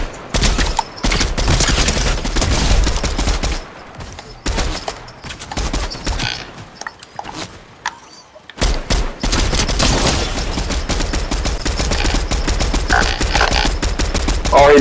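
Rapid Fortnite gunfire, dense bursts of loud shots hammering in quick succession, breaking off briefly mid-way before resuming as a sustained barrage.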